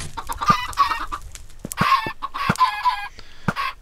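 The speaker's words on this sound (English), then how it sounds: "all of these chickens are babies" Baby chickens in a video game cluck and chirp in several quick, close bursts, with short gaps between the calls.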